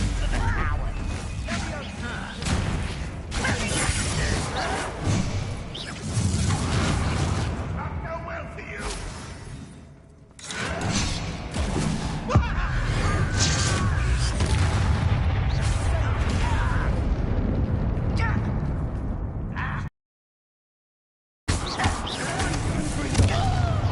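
A Bombarda blasting spell from Hogwarts Legacy lets out repeated heavy booms and crackling bursts amid combat noise, with voices talking, then a brief silence before the din returns.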